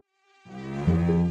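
High, whining mosquito buzz in an advertisement that swells in after a brief silence and holds steady and close, with a faint bump partway through.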